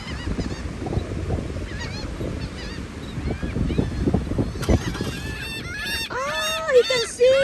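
Seagulls call repeatedly at the waterfront in Corpus Christi, Texas, their sharp cries growing louder and closer toward the end over steady wind and low rumbling background noise.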